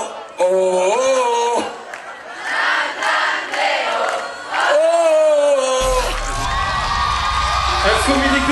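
Crowd cheering and shouting at an outdoor summer music concert at Lac des Sapins, loud and sustained with whoops and a voice calling over it, then broadband applause-like noise swelling near the end.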